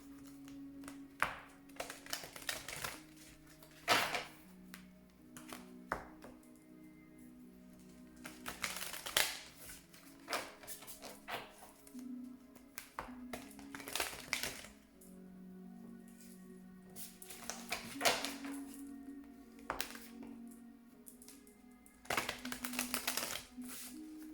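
Tarot cards are repeatedly shuffled and riffled in short bursts, crisp snapping flutters with pauses between, close and fairly quiet.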